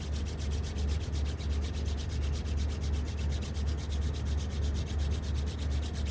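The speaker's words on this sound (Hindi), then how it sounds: "हाथों को रब करें" Palms rubbed briskly together during a morning exercise session, a steady rapid swishing friction that runs unbroken throughout, close and fairly loud with no talk.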